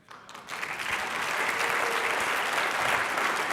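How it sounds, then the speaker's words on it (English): Audience applause for Candace Owens rises within the first half second and then holds as a dense, steady wash of clapping from a large crowd, loud and even through to the end. "Another big round of applause for Candace Owens."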